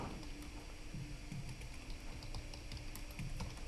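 Someone types on a computer keyboard in a room with a low hum, producing soft, irregular key clicks close by, alone without speech.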